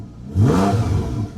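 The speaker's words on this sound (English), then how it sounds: "Now let me just rev it slightly" Porsche 911 Carrera 4S (991.1, PDK) engine giving one short, slight rev, a sharp rise in throttle that holds briefly before easing, close and fairly loud with no talk.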